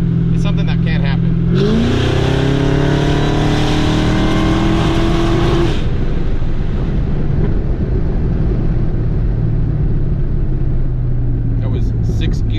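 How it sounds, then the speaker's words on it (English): A Camaro SS with an LT1 engine accelerates hard through its gears, its loud, close engine note climbing in a long rising wail before settling into a steady, roaring drone. "That was six gear pull. That's why it sounded like it took forever to wind up."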